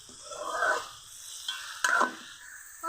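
Crab with sweet pumpkin and spices being sautéed in a pan gives quiet, close sizzling and a few soft stirring scrapes in two short bursts, with no voices.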